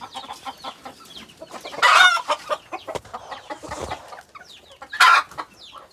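A black gamefowl rooster clucks in two loud bursts, close by, with softer bird chatter and rustling between them.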